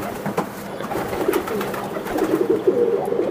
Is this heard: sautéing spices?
no